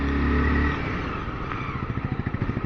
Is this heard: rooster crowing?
no